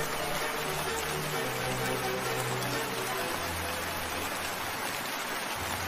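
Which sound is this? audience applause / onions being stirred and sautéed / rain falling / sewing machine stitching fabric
rain falling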